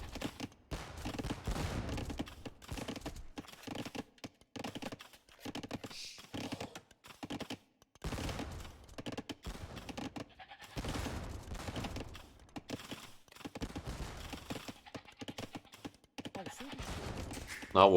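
Organ guns firing in an Age of Empires II match, rapid clustered volleys of sharp cracks in bursts separated by short pauses, moderately loud and repeated across the whole stretch with no talking.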